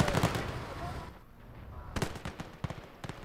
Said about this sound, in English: Did that heavy bombardment do anything?